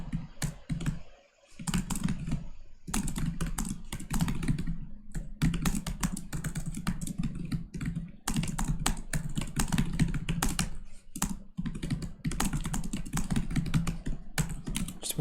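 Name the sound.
typing on a computer keyboard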